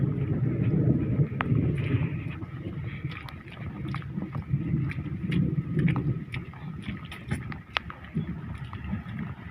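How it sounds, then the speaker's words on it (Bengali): Outdoor wind buffeting the microphone in a steady low rumble near water, with scattered small knocks and rustles and no talking. "বাতাস উঠে শীত লাগা দেবে"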